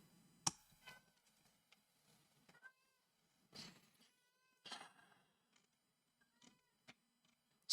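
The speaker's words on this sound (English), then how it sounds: "I hear you, cat." A cat meows several times in short, faint, wavering calls, spread out with pauses and a few sharp clicks between them, and no one speaks.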